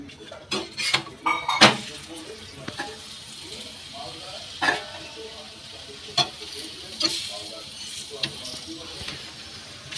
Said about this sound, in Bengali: দেখুন এইভাবে আমি পরোটাগুলো ভেজে নেব সব কটা। আমি দুটো দুটো করে ভাজছি।